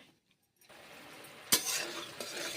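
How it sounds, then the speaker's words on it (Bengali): After a moment of near silence, a gentle sizzle rises as black cumin seeds hit hot oil in a kadai, followed by a sharp metallic clink and a stronger crackling fry. "কালো জিরে ফোড়ন দিলাম তেল গরম করে নিচ্ছি"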